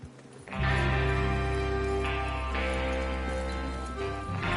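Steady clip-clop of horse hooves in Red Dead Redemption 2 under a thick bed of music, loud and continuous throughout.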